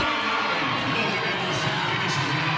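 A volleyball crowd roars continuously during a deciding fifth-set rally, loud, dense cheering and shouting filling the space without a break.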